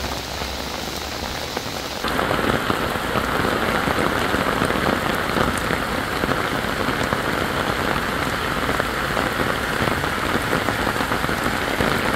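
Steady heavy rain pouring down over a village market, a dense continuous hiss of drops on surfaces that grows louder after a couple of seconds and stays constant throughout.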